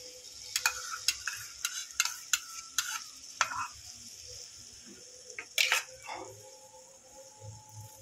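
A utensil mixes egg paratha batter in a bowl, giving a series of sharp irregular scraping clicks, a few close together, then a pause and a louder cluster before quieting.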